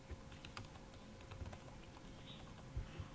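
Soft, faint keystrokes on a computer keyboard, scattered taps and clicks across a few seconds with no one speaking.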